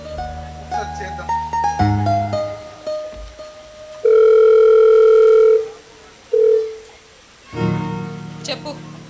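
A telephone ringback tone sounds while a call is placed, two long steady electronic tones with a short pulse between, loud and clear, following brief talk and background chatter during a stage play.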